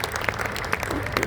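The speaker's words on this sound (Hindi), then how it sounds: "तो आपको जोरदार तालियों से अभिनंदन।" A Hindi poetry recital audience breaks into loud, sustained applause, a thick wash of clapping that fills the whole short moment without pause.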